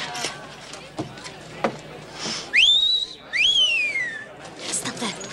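A man gives a two-part wolf whistle at a woman in a 1965 Bonanza western episode, a sharp rising note and then a long falling one, loud and close against quieter background clatter.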